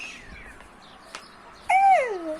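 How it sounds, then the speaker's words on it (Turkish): Crow calling outdoors on a warm clear day, two harsh descending caws, a faint one early and a louder, nearer one near the end, with quiet background between. "Karga sesiydi."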